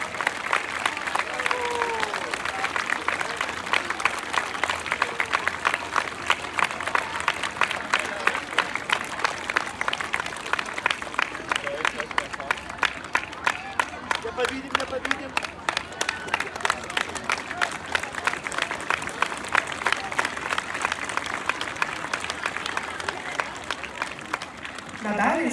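Sustained applause from a large crowd at a school ceremony marking the start of the school year at a gymnasium, steady dense clapping lasting throughout with faint voices mixed in.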